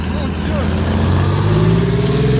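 A Willys Jeep and a Sherman Firefly tank running together, a loud steady engine drone with a rising growl, close and continuous throughout.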